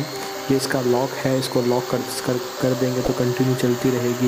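A Buildskill 350-watt electric drill runs in short bursts, its motor whining and rising and dropping in pitch as it starts and stops, close up, while someone talks over it.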